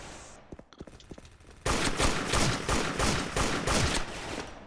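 A toy M1 Carbine gun fires in an online shooting game, first a few scattered sharp shots, then a sudden loud sustained burst of rapid gunfire with a dense, echoing crackle that runs to the end.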